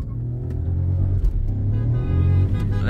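Tuned 1.0-litre Skoda Slavia sedan and Kushaq SUV launch side by side in a drag race, their small turbo engines revving hard in a steady, loud rumbling drone that rises as they pull away.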